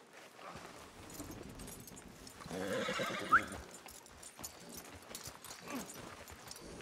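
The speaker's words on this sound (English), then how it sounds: "Marston, you're gonna tether him up to Javier's horse." A horse whinnies loudly amid clip-clopping hooves and outdoor bustle in Red Dead Redemption 2, with a sharp high squeal partway through.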